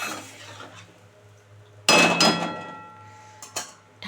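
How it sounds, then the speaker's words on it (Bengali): A metal lid lands on a pot of prawn curry with a sharp, ringing clang, followed by fainter clinks as it settles, over a quiet low hum. "এবার ঢাকা দিয়ে দেবো"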